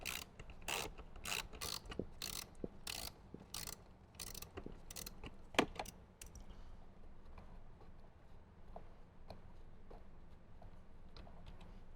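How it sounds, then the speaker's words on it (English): A socket wrench ratchets out 7mm screws on a 2018–2023 Jeep JL during a speaker installation, with rapid, loud clicking bursts for about six seconds before quieter, sparse clicks and handling noise. "use our socket wrench, get those removed."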